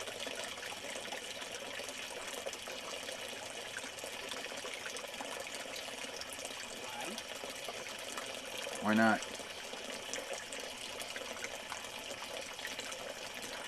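A garden pond waterfall pours steadily, a constant splashing wash running throughout, with a brief louder splash or gurgle near the end and a short spoken remark over the flow.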